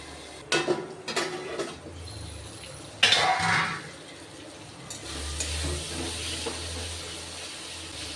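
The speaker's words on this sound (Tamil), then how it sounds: "சரி, தக்காளி நல்லா சாஃப்ட் ஆகிற வரைக்கும் வதக்கலாம்." Tomatoes sautéing in a pan in a home kitchen: a few clinks and scrapes of stirring, then a steady, soft sizzle that settles in and continues with no talk.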